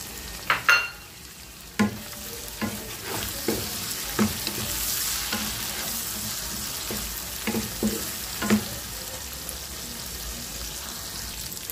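Tomatoes sauté in a hot pan for a home-cooked upo (bottle gourd) dish, giving a continuous close sizzle broken by repeated scraping stirs and a few louder clacks of a utensil against the pan.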